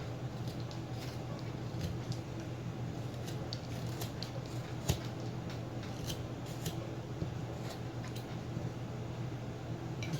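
Knife shaving small cuts from a wood carving of a Native American Ojibwe man, with faint, quick snipping and scraping ticks over a steady low hum.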